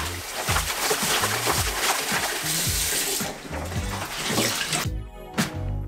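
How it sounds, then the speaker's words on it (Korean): Tap water runs and splashes as rags are scrubbed with detergent in a sink, a steady close rush with rhythmic sloshing of wet cloth before the flow cuts off near the end. "아까 사온 걸레들을 물을 틀고 세제를 뿌려 깨끗하게 빨아낸다"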